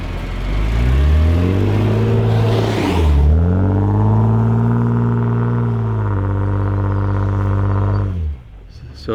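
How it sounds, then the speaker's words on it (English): Lead off-road overlanding vehicle pushing through deep snow drifts in Utah, its engine droning loud and close with steady strain, pitch dipping and recovering as it bogs and pushes on, then cutting off abruptly near the end. "driving the lead vehicle, so he's kind of beating the path through the drifts"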